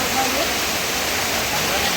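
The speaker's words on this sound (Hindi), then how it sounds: "बारिश आ रहा है इधर पे देखो।" Steady rain pouring down outdoors, a dense, continuous hiss that stays loud and even throughout with no distinct drops standing out.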